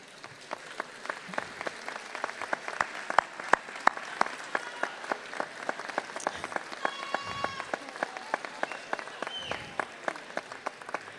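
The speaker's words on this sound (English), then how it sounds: "give them a big round of applause for all they've done to support your excellence" Graduates at a college of pharmacy commencement stand and applaud their families, a dense, sustained crowd clapping filling a large hall, with scattered louder individual claps and a few faint cheers in the back.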